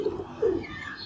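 Pigeons kept by a breeder during hot weather give soft, low coos, two short murmuring phrases close by against a faint background hum, with no talking.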